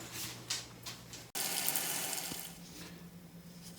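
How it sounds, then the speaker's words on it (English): Regular tap water gushes steadily from a faucet into a cooking pot, a broad continuous splashing rush that starts abruptly after a brief lower trickle and holds fairly loud to the end with no talk. "then I'm going to fill that pot about 3/4 of the way full of regular tap water"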